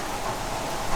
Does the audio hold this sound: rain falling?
yes